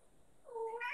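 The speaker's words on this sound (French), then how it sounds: "c'est mon chat qui rentre, qui sort, qui rentre, qui sort, qui est un peu embêtant." A single short cat meow rises and swells near the end, faint and indoors, with no talk over it.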